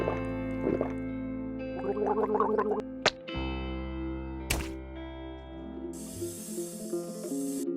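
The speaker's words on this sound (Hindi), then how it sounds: "अभी जल्दी से गरारे करके" Person gargling water, with wet bubbling bursts in several spells, then a sharp splash and a thud of something dropped, inside a Hindi cartoon story scene with background music.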